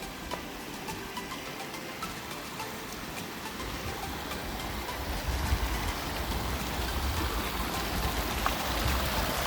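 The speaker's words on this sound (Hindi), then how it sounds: "एक तो ये सामने से आता हुआ झरना" A mountain waterfall and stream along the Panchachuli base camp trek roar in a steady, broadband rush of water that swells slightly louder partway through, with no voices over it.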